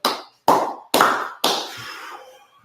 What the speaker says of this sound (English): Gotta clap it up